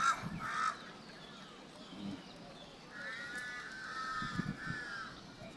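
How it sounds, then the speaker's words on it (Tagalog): A few harsh crow caws ring out against quiet outdoor ambience in Lumpini Park, Bangkok, with a longer drawn call midway and faint animal bleats in the background. "Dami ding uwak."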